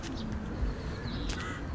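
A bird calls a couple of times, faint and somewhat distant, over a low rumbling outdoor background in a park.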